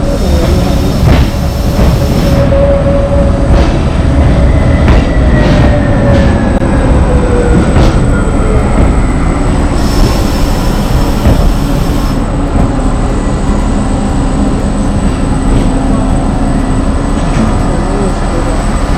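An old train rumbles steadily along the mountain railway to the Nuria valley in Spain, with continuous loud wheel and rail noise, drifting squeals and tones, and talk heard faintly over it.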